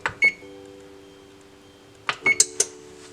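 An oven's control panel beeps as it is set to preheat to 350 Fahrenheit, giving a short tone at the start and a quick cluster of beeps near the end, with a faint steady hum between.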